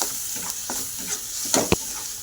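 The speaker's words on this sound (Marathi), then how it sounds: "मसाला चांगला तळून घेते." Spice masala fried in leftover fish-frying oil for a Marathi fish curry, giving a steady close sizzle with a few louder stirring scrapes, no talk.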